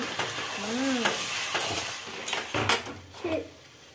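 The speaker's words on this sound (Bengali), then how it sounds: "চিকেনটা দিয়ে দিলাম, একটু আমি কষাই তারপর তুমি করো, তলায় লেগে যাবে" Chicken pieces sautéed and stirred in a hot pan, a steady close sizzle broken by repeated scraping and clanking of a spatula against the metal, with a few squeaky utensil strokes.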